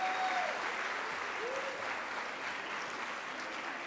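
Audience applause at a school band spring concert, a dense wash of clapping from a crowd that holds steady at moderate volume throughout.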